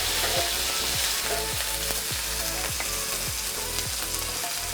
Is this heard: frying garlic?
yes